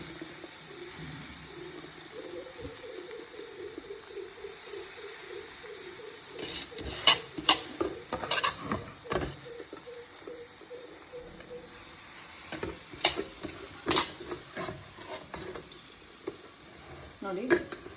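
Puffed rice being gently stirred in a pan for lemon puffed rice, with soft, intermittent scraping and rustling bursts over a quiet background.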